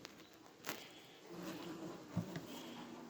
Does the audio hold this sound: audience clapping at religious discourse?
no